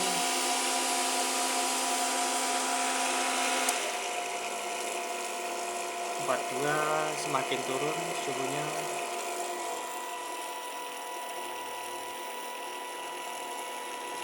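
Cooling fan of a 12 kW smart SPWM ATMEGA parallel inverter kit whirs steadily with a constant hum, with a person speaking over it partway through.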